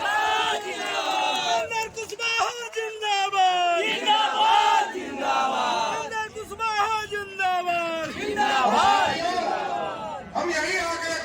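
A large political rally crowd roars and chants in welcome of Upendra Kushwaha, loud massed cheering and shouting swelling in waves close by throughout.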